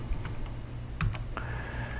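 Typing on a Windows 7 computer keyboard, a handful of close, quiet key clicks spread unevenly over a short stretch, with a faint hum behind them.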